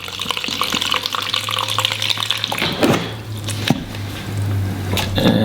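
Water is poured into a container to mix a vegan protein powder shake, a steady close splashing and gurgling stream that runs throughout, with small shifts and knocks as the pour changes.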